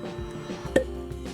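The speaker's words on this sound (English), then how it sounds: "Nice cork pop." A cork pulls free from a bottle of Willett cask strength rye whiskey with a single short, soft pop in an otherwise quiet room.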